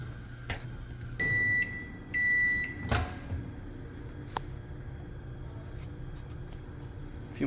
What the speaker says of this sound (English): I'm going to put it into the microwave for about like 10 seconds just to soften it a little bit.